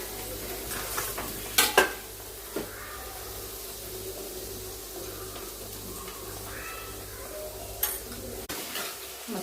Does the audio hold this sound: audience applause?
no